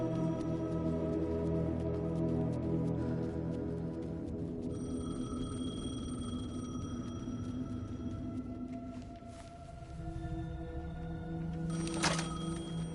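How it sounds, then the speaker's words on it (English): A payphone rings in the video game Alan Wake 2, with a steady electronic tone sounding over a low, droning ambient bed. A louder burst of ringing comes near the end. "payphone was ringing"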